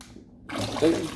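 Fruit poured into a basin of vinegar water for cleaning, giving a short splash and sloshing of liquid that rises after a quiet start, with faint talk nearby.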